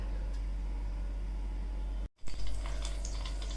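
Steady, loud hissing sizzle of medu vada frying in hot oil, broken by a brief cut before the sizzle surges back with crackling bursts.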